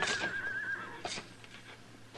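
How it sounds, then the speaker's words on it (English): A horse whinnies in a stable as a radio drama sound effect. The single short neigh is fairly faint and comes at the start, followed by quieter rustling. "We put our horses into their stalls"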